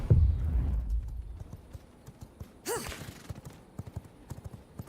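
Horse hooves clip-clop at a quick gallop in the V Rising video game, a rapid rhythmic series of thuds with a brief whinny midway, fairly close and steady.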